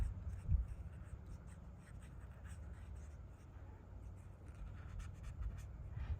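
An alcohol marker colours over darker ink on paper, giving a quiet, continuous scratchy scrubbing close to the mic, with a soft thump early on.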